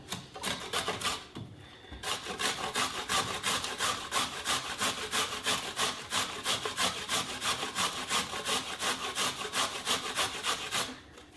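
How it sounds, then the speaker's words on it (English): Sweet potato is shredded on the large side of a box grater, a steady run of rhythmic rasping strokes at close range, pausing briefly near the start, with no talk. "Now we have to shred our sweet potato."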